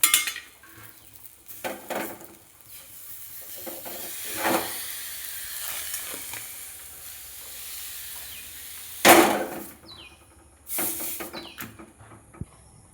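Lentil fritters (bora) fried red being lifted out of a pan, with intermittent hissing bursts of hot oil, scraping of a utensil and several sharp metallic clinks, including a loud clatter near the middle.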